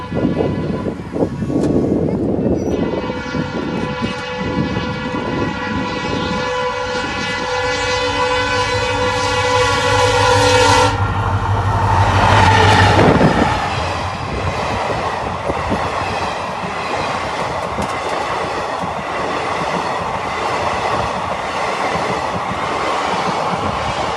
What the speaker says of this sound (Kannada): ರೈಲ್ವೆ ಮಾರ್ಗದಲ್ಲಿ ರೈಲು ಓಡಾಟದ ಸ್ಪೀಡ್ ಟೆಸ್ಟಿಂಗ್ ನಡೆಯಿತು